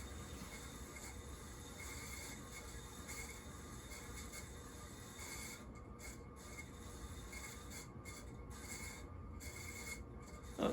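A Sears plastic Emerson designer ceiling fan runs with a bad noise: a faint, steady rubbing, grinding rasp that continues without a break and has no talk over it.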